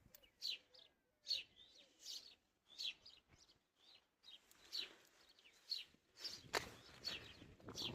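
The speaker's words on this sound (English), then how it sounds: "You can hear all them birds in that tree." Several birds in a tree near farm fields chirp and tweet in short, scattered bursts nearby, with quiet pauses in between and a faint rustle underneath.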